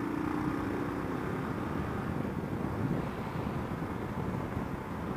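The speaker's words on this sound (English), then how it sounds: "It's either really windy or the windshield on this just sucks." Strong wind buffets the microphone on a moving motorcycle with a windshield, a loud, continuous low rumble and roar that stays steady throughout with no talking.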